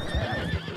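A horse whinnies and its hooves clip-clop in Red Dead Redemption 2, a short close burst with the neigh rising over steady hoofbeats.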